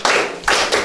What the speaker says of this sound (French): Très bien, applaudissez.